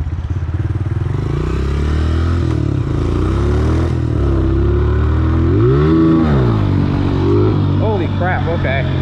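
A motorcycle engine revs hard through a third-gear wheelie during wheelie practice, its loud rising and falling drone sustained throughout, with a voice speaking over it.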